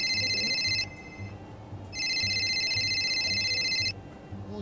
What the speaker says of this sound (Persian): گوشیم داره زنگ میخوره.